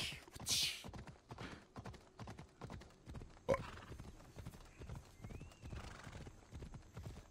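Horse galloping in Assassin's Creed Odyssey, rhythmic hoofbeats pounding in a steady fast cadence, with a brief whinny and a sharp sword-like ring partway through, moderately quiet overall.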